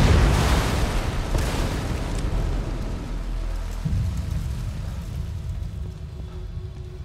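A loud explosion in the horror video game The Evil Within 2, a heavy boom at the start that settles into a sustained low rumble and debris-like roar, with no talking.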